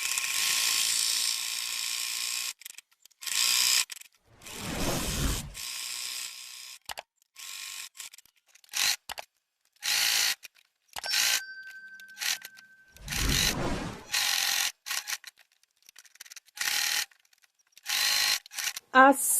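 A domestic sewing machine stitching a zigzag seam on fabric, heard in repeated short mechanical bursts of whirring and rapid clatter separated by pauses, close by, with a few quiet spoken remarks between runs.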